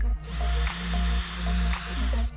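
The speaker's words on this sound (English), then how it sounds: "Once your marks look good, pre-drill pilot holes if needed." Power drill boring pilot holes for roller shade valance brackets, its steady motor whine sustained close up with brief dips as pressure shifts, no talking.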